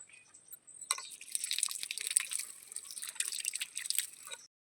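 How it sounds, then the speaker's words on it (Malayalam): A container being washed by hand with running water, giving a steady wet splashing and dripping rush that starts abruptly about a second in and continues closely until it stops near the end. "ഞാനിതാ ഇത് കഴുകാൻ പോവുകയാണ്. കഴുകി വൃത്തിയാക്കാണ്."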